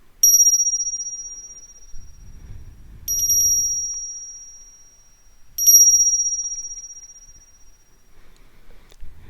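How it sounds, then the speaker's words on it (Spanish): A meditation bell rings three times at a slow, even pace, each bright, close strike ringing out and fading before the next, with a faint low rumble between strikes. "deja que el sonido de esta campana armonice tu energía."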